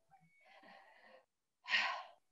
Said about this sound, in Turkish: Nefes alıp veriyoruz.